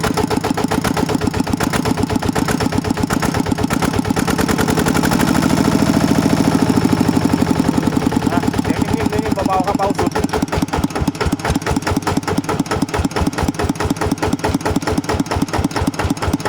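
A second-hand farm tractor engine idles steadily, with a rapid, even chugging pulse that stays loud and close throughout.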